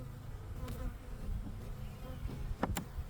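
Bees hum steadily around hives during a mid-spring hive inspection, a continuous low buzz close by, with a few brief sharp clicks or knocks near the end.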